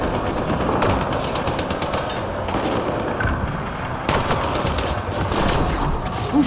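Sustained gunfire from a firefight in the video game Mass Effect Andromeda, with dense rapid bursts and sharp cracks running throughout, loudest around the fourth and sixth seconds.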